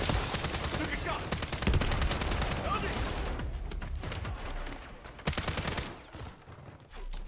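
Dense automatic gunfire fills a hardcore team deathmatch in a video game, loud rapid rattling bursts nearly continuous, easing briefly before a sharp louder volley near the end, with faint voices mixed under the shooting.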